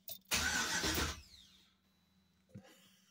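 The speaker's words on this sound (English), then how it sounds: "Just crank it a few times." The LS-swapped Chevy Colorado engine cranks and catches in a brief loud burst that fades quickly, with a smaller thump near the end.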